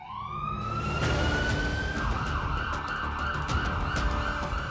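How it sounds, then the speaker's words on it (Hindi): Government vehicles race through the streets of Ayodhya with sirens wailing, a loud rising electronic siren tone over engine and traffic rumble, continuous and close throughout. "हूटर और सायरन बजाता योगी सरकार का सरकारी अमला दिन भर अयोध्या की सड़कों और गलियों में दौड़ता रहा"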